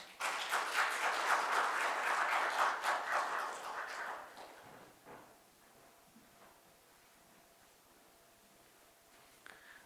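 Applause from a church congregation during a Sunday worship service in New Jersey, a dense burst of clapping lasting about four seconds before fading into quiet room tone.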